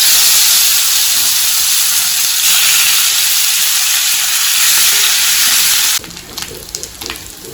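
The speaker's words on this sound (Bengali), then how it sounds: "এবার এটা মাখিয়ে নিয়ে আমি চিকেনগুলোকে একটু ফ্রাই করব।" Chicken pieces marinated with ginger, garlic and lemon fry in a pan with a loud, steady sizzling hiss close by, easing to softer crackles and pops near the end.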